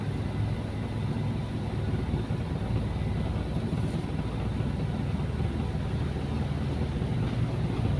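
A carbureted Mitsubishi L300 engine idles with the air conditioning running, a steady, even rumble that holds at the same level throughout with no other sounds.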